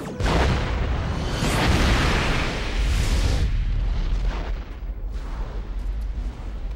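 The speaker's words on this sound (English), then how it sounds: "Mr. Worf, quantum torpedoes." Quantum torpedoes fire and explode in a Star Trek film battle, a loud, continuous wall of heavy booming blasts and rumbling detonations with no speech.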